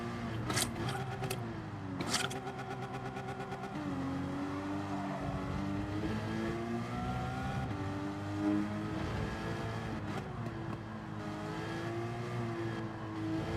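A Porsche flat-six race car engine in Gran Turismo 7 wails continuously, its pitch rising and falling through gear changes and throttle lifts with sharp shift blips, loud and up close throughout.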